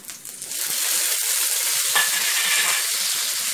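Red bird's eye chilies stir-fried in a hot pan for water spinach with Bhutanese mushrooms, a steady loud close sizzle that swells after a quiet start and keeps crackling throughout with no talk.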